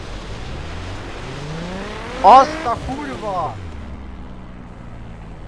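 An engine revs up hard in a tunnel in the racing video game The Crew, a short echoing burst of rising and falling pitch that peaks briefly, with someone talking over it.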